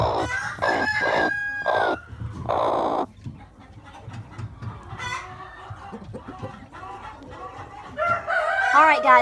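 Broody hens, a mix of Easter Egger and Black Australorp, cluck, squawk and crow loudly and close inside a chicken coop, with a burst of agitated calls at the start and again at the end.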